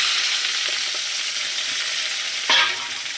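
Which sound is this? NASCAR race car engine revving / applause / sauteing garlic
sauteing garlic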